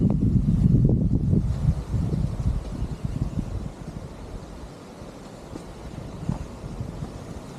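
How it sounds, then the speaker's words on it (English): Gusty wind buffets the microphone with low rumbling bursts, strongest at first and easing into a softer, uneven rush. "It's a bit windy"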